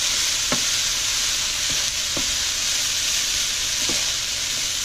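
Food sizzles steadily in a pan while being mixed, a constant bright hiss with a few sharp scraping clicks from a wooden spatula at irregular intervals, close and alone.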